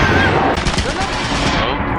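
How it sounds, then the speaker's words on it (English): A turret in a video game fires a rapid, dense burst of automatic gunfire that lasts throughout, loud and close, with a voice faintly underneath. "Yeah, that's the turret."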